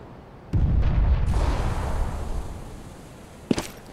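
Smoke grenade deploying in CS:GO, with a sudden burst followed by a loud hissing whoosh of smoke that slowly fades, then a sharp click near the end.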